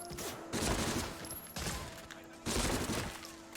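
Thompson submachine gun fire in the video game Medal of Honor Frontline, three loud bursts of rapid automatic shots, each about a second long, separated by short gaps.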